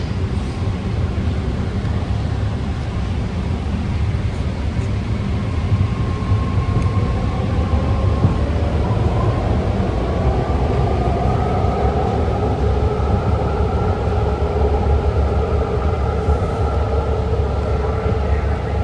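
A 6-car BART Green Line train bound for Berryessa pulls into Lake Merritt Station, a loud continuous rumble heard from inside the car, with whining tones that shift as it slows, and no talk.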